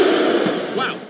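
Wrestling arena crowd in the video game WWE SmackDown vs RAW 2007, a loud sustained roar of chanting voices that swells and holds throughout with no clear break.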